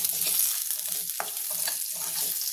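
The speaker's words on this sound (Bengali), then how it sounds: "এবার আমি আলুটা ভেজে নেব।" Potato pieces frying in a pan of oil while crab is cooked at home, a steady bright sizzle with occasional stirring scrapes, close and fairly loud, no talking.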